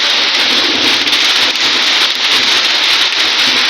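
A summer hailstorm with rain beats down in Siddhirganj, Narayanganj, as a loud, unbroken hiss of falling water and ice that stays steady from start to finish without speech.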